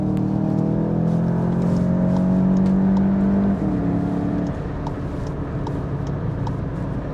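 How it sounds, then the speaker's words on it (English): A 2019 VW Jetta GLI 35th Edition with a DSG gearbox accelerates onto a highway, its engine droning steadily, rising in pitch and then dropping after a shift, heard from inside the cabin without speech. "So as you can see, plenty of power to get onto the highway."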